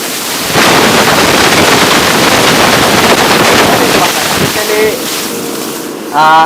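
A 3500 RPM kitchen hood fan runs at full power, a loud steady roaring rush of air filling the room; near the end a voice speaks over it.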